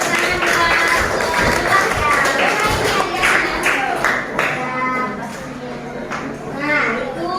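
A school class of children clapping hands together, a loud busy patter under a teacher's voice in a classroom.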